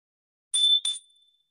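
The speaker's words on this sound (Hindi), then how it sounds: "मैं एक घंटी बजाता हूँ" A single meditation bell rung twice in quick succession, bright ringing tones at close range with a short fading tail, then silence, alone without any voices.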